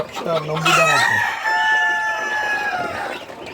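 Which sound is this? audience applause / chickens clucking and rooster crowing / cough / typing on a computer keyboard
chickens clucking and rooster crowing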